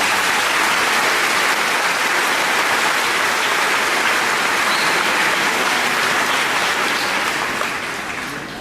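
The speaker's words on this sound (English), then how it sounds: "Let's give them a round of applause." Steady, dense applause from a large graduation ceremony audience fills the space loudly and continuously, beginning to taper off near the end.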